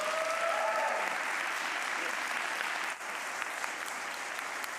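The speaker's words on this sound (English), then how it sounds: "Round of applause for Manar." Sustained audience applause for a competitor at a science-communication final, a dense, even wash of clapping with a faint tonal trace early on.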